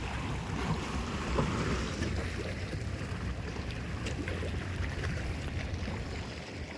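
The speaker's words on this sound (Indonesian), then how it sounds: "Nah ini kapal-kapal kecil ini biasanya kapal pemancing ini." Small fishing boats come in to dock at a seaside pier: a low, steady engine chug mixed with lapping water and wind, moderately close and without voices.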